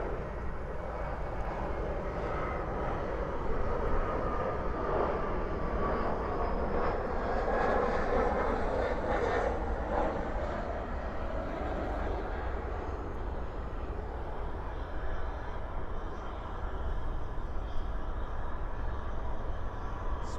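Boeing 767-300ER airliner landing at night at DFW airport with thrust reversers deployed and spoilers up, giving a loud, steady, broad jet roar that holds for about twenty seconds without letting up.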